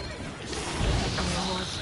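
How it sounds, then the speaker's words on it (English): A horse whinnies in The Witcher 3, a single loud neigh lasting under two seconds, close and prominent over game sound. "Oh, the horse is fine."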